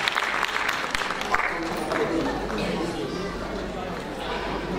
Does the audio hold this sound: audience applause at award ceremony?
yes